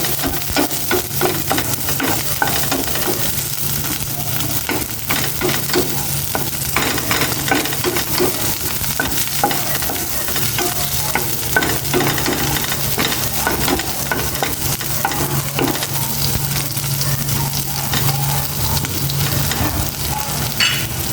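Onions fry in a pan with a constant close sizzle while repeated scraping strokes of stirring run all the way through, and no one speaks.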